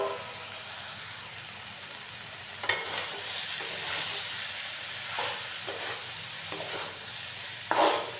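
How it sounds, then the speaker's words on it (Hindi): Aloo gobhi, a potato and cauliflower curry, sizzles steadily in a pan while a spoon stirs it, with several scraping strokes standing out over the hiss near the end. "सब्जी को चला लेते हैं"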